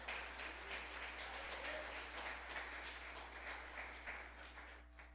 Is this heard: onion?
no